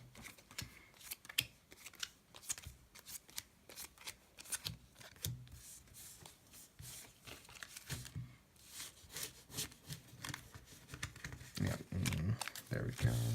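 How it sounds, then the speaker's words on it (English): A Yu-Gi-Oh! card deck is shuffled by hand in a series of quick, crisp riffling and snapping bursts, fairly close and moderately loud, with brief pauses between bursts and some rustling underneath. "And so now we're shuffled."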